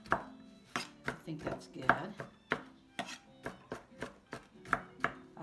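Big walnuts are chopped on a board into bite-sized pieces for banana bread, a steady run of close, crisp knife thuds with one short spoken remark.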